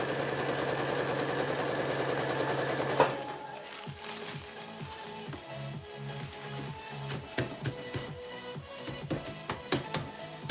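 A sewing machine stitches a clear storage bag made from Dollar Tree supplies. After a loud opening hum, the stitching runs as a steady rhythmic chatter of close needle strokes, with no talk over it.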